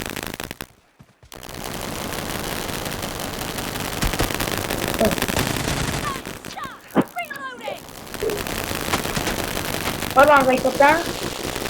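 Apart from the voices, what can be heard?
gunfire in video game BGMI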